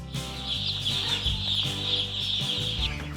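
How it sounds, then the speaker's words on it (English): Chickens cluck and chatter continuously on a Texas farm, several birds close by with overlapping calls and a steady farmyard hum beneath. "And along with all those cows, there's the chickens."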